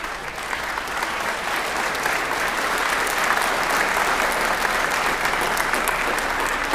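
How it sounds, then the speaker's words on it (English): Sustained, loud audience applause at a high school Veterans Day assembly, honoring standing military veterans, a dense, even roar of many hands clapping that builds slightly and holds steady, with no talk over it. "Thank you for giving them a round of applause and for their service and sacrifice"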